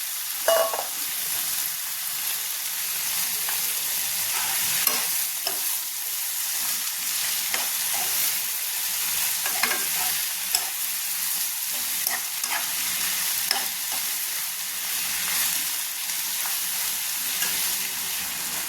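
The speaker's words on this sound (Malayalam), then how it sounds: "അതുകൊണ്ടൊന്ന് വഴറ്റി കൊടുക്കാം" Two medium onions sauté in a pan, a continuous crackling sizzle with frequent scraping stirs, close and alone throughout.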